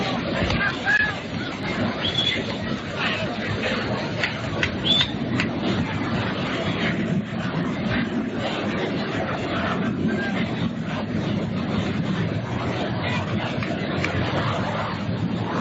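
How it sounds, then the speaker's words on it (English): A jet aircraft passes high overhead during a 1952 World Series baseball game between the Yankees and Dodgers: a steady, broad rumble that fills the whole clip, mixed with crowd murmur from the ballpark. "There was a jet high overhead."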